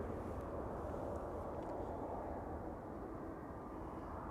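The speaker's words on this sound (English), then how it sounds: "Delta Airlines Flight 47 and 57 are coming this way." A Delta Airlines jet arriving at Amsterdam Schiphol Airport gives a steady, distant low roar that holds evenly throughout, a broad rumble with no talking over it.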